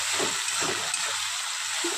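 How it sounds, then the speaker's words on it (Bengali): Ginger-garlic paste sautéing with onion and tomato in a pan: a continuous soft sizzle with a few faint stirring scrapes, steady and close throughout. "আদা রসুনের কাঁচা গন্ধটা চলে যাওয়া পর্যন্ত কষিয়ে নেব।"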